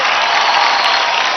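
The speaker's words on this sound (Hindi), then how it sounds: "जोरदार तालियां हो जाए बिकी दास और आशुतोष के लिए" A studio audience on a televised dance competition applauds the dancers, a dense, steady roar of many hands clapping at once, loud and close, with faint cheers mixed in.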